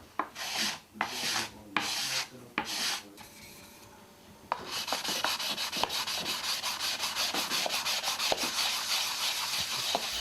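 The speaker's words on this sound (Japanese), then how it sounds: "水で濡らした器を水で濡らした砥石で研ぐ水研ぎという研ぎ方です。" Urushi lacquerware is wet-sanded with a water-soaked whetstone, first in a few slow separate rasping strokes, then in a steady run of quick back-and-forth rubbing, close and fairly soft.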